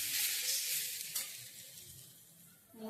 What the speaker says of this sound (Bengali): ছোট আলু ভাজা